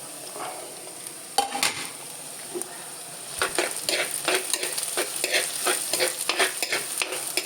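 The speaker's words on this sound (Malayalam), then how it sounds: "അപ്പോൾ പച്ചമുളക് ഇട്ട് കൊടുക്കാം." Green chillies fry in a pan with onions for a Kerala fish curry, sizzling steadily while a utensil stirs and scrapes in quick irregular strokes, close and fairly loud.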